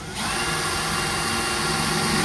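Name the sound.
drilling new holes for bumper install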